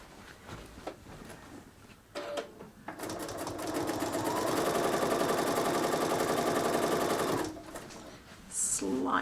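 Sewing machine quilting across a seam, a steady fast mechanical stitching run lasting several seconds, preceded and followed by brief pauses with faint clicks and handling noise.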